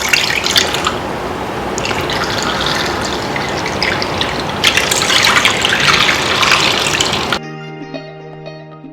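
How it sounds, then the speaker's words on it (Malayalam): Homemade pineapple wine trickles and drips steadily through a filtering cloth, a close, continuous liquid gush and patter, followed at the end by a short burst of music. "തെളിഞ്ഞ വെള്ളം പോലെ നമ്മുടെ വൈൻ താഴോട്ട് പോകും."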